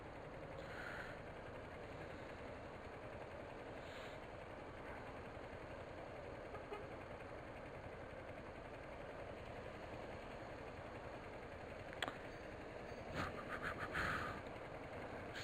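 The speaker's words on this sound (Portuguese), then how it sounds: "Tá chegando moto aí?" A motorcycle engine idles at a faint distance, a steady low mechanical rumble running throughout, with a few brief sharp clicks and knocks near the end.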